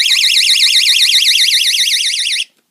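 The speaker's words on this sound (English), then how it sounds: "Obviously with the panic alarm, so we know obviously if anybody opens a case." A loud panic alarm fitted to a handmade glass display case gives a rapid, high-pitched warbling wail that runs without a break for about two and a half seconds and then cuts off abruptly into silence.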